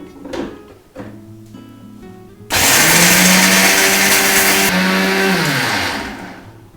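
A few clicks and knocks come first, then an electric mixer grinder roars on at full speed, grinding dried red chillies into dry powder with a loud, steady whirring rattle for several seconds before winding down.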